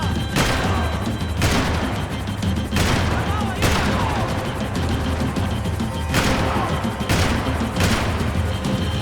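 Heavy bursts of gunfire in Max Payne 3 during a vehicle chase, loud and close, with about six sharp volleys striking at uneven intervals over a rumbling engine-like bed.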